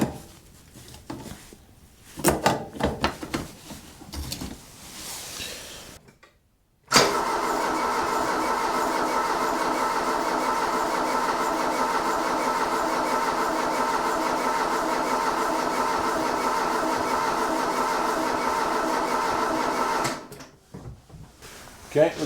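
An old Ford Fiesta that has sat for years is cranked for the first time, giving a loud, steady, droning starter churn for about thirteen seconds that stops abruptly. Brief talking and handling noises come before and after it.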